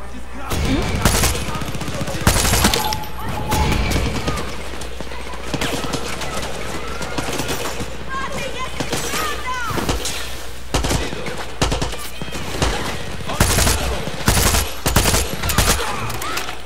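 Soldiers firing in Far Cry 6, repeated loud bursts of automatic gunfire and single shots scattered across the whole stretch, some close and some farther off, with talk mixed in.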